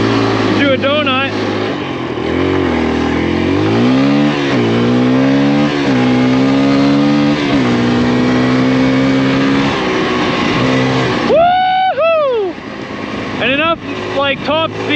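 Kawasaki KLX140RF enduro motorcycle engine revving hard through a donut, pitch climbing and falling in long sweeps with sharp high revs near the end, loud and close with a rider's whoops over it.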